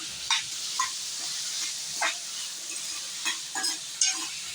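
Onions fry in hot oil until golden brown, giving a steady sizzling hiss with occasional sharp stirring scrapes and clinks, close and moderately quiet, no voices.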